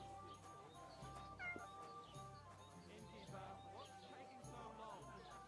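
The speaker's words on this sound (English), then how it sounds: "I've heard a cat." A cat meows in a video game, faint and a little distant, with a few short calls set against quiet ambient game sound.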